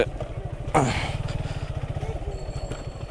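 A motorcycle engine putters steadily at low pitch as the bike rides along the Padma riverbank, with a brief whoosh of wind or passing noise partway through.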